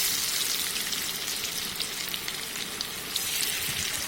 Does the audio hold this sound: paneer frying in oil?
yes